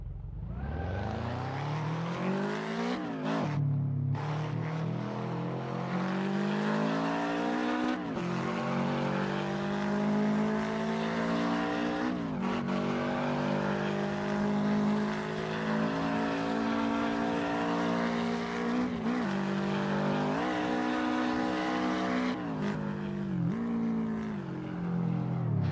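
A manual-gearbox Toyota GT86 engine in Assetto Corsa traffic mode revs loudly and steadily, its pitch climbing and dropping with several sharp gear changes over a continuous close drone.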